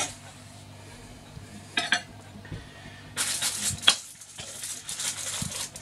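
Dishes and cutlery clink quietly while homemade egg fried rice and Peking beef are served onto plates: a few scattered taps and scrapes, then a louder spell of clattering near the end, close but fairly soft.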